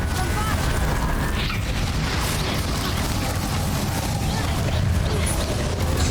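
Spell blasts and booming impacts from Hogwarts Legacy, with a Bombarda explosion among dense, continuous rumbling combat effects and clicking mechanisms, while a voice talks over it.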